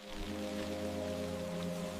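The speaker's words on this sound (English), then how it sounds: "The sound of rain underfoot reminds you that you're moving" Steady rain falls on the stone streets of a Swiss alpine village, a continuous close hiss and patter that runs unbroken, with a low droning hum underneath.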